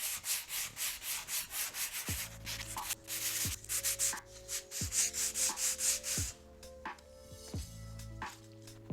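Fine 120-grit sandpaper rubbed back and forth on a handmade surfboard fin, steady rhythmic close-up scraping strokes, with a faint tonal hum in the background.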